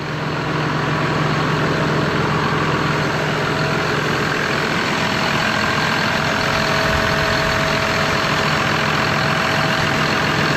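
A John Deere machine's engine idles steadily after starting, a loud, even, low diesel rumble running without change for the full stretch, with no talk over it.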